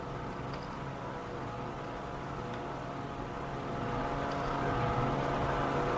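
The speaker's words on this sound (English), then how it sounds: "They're getting back into their boat." A steady motor drone, like a boat engine running at a distance, continuous and slightly louder toward the end, with no talking.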